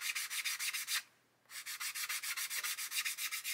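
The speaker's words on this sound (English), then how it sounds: "So I come along with this old sanding stick" An old sanding stick rubs back and forth on the plastic of a 1/24 scale Airfix Spitfire Mk.IXc model kit, giving steady rhythmic close strokes with one short pause partway through.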